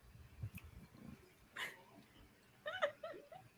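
A hungry dog begs for food with a few soft whimpers and yips, fairly quiet and close, spread across a short stretch with a brief higher whine in the middle and a cluster of sharper yelps near the end.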